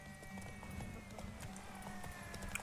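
Roach, Geralt's horse in The Witcher 3, galloping during a race, rapid rhythmic hoofbeats close and steady beneath a faint background hum, with no talk.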